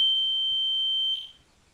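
Piezo smoke alarm emitting one loud, steady high-pitched tone for just over a second before it cuts off, leaving quiet room noise.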